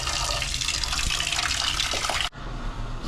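A water bottle empties into a water cooler in a loud, continuous rushing pour that cuts off abruptly near the end, leaving a quieter, duller flow with no talking.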